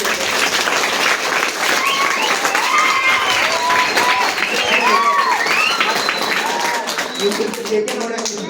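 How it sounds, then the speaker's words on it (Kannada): An audience claps at an Independence Day flag hoisting, a dense sustained round of applause lasting several seconds before tapering off, with a voice heard over the clapping. "ಅವರಿಗೆ ಮತ್ತೊಂದ್ಸಲ ಜೋರಾಗಿ ಚಪ್ಪಾಳೆ ತಟ್ಟುವಂತ"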